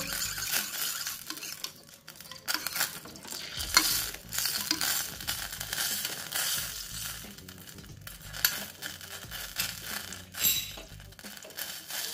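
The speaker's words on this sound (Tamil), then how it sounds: "நல்லா மிக்ஸ் பண்ணிக்கிட்டே விடணும், மிக்ஸ் பண்ணி விட்டுட்டே இருக்கணும். நல்லா சால்ட் வந்து அந்த ஆயிலோட நல்லா கலக்கணும்." Salt stirred into oil with a spoon for homemade glycerin, producing a steady scraping and clinking of utensil against the vessel with a faint sizzle, close and continuous with no talk.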